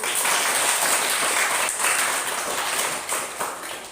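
A primary school class claps together in a classroom during a Catholic religion lesson, dense, loud and sustained applause lasting throughout.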